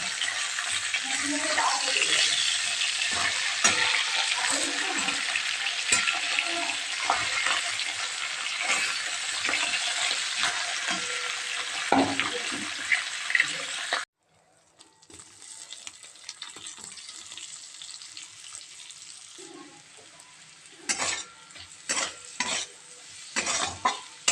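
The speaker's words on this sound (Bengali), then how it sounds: "ওই তেলের মধ্যে জিরে ফোড়ন দিয়ে পেঁয়াজটা ভালো করে ভেজে নিলাম তারপরে কুচিয়ে রাখা লাউগুলো দিয়ে দিলাম" Cumin, onion and chopped bottle gourd frying in oil in a home kitchen: continuous sizzling with frequent spoon-stirring scrapes and clinks, loud at first, then quieter after an abrupt drop, with intermittent stirring bursts.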